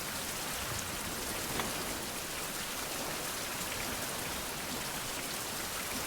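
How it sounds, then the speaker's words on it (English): Steady, dense rainfall in the 16th-century survival game Survival: Fountain of Youth, an even hiss of drops on surfaces that continues unbroken without any talking. "it only just started raining, so these rain barrels really haven't had a chance to fill up yet"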